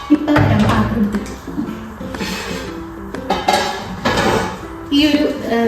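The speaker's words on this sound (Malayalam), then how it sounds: "എനിക്കിത് ഇപ്പം വരാം പാത്രം എടുത്തിട്ട്." Kitchen vessels being taken out and handled, a series of metallic clanks and clinks of pots and utensils knocking together, close and fairly loud, with some voice in the background.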